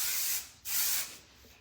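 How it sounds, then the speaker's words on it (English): Setting spray is misted onto a face in two close, breathy hisses, the second slightly longer, with brief quiet between and a faint tail afterward. "I wish there was a way to not make the ugly face when you spray stuff on you."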